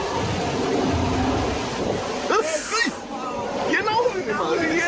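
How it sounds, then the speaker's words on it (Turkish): Thunder rumbles from a played video clip as lightning strikes an airplane, a broad stormy roar heard under people talking over it. "Gördünüz mü? Uçağa şimşek çaktı."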